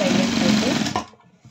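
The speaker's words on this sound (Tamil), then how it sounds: "லைனிங்கும் மேல் துணியும் அப்படியே ரெண்டு துணியும் ஒன்றா தையல் போட்டுக்கலாங்க." A sewing machine stitches the lining and outer fabric of a 36-inch chudidar top together, its loud, steady close-up motor whir running for about a second before cutting off into faint rustles.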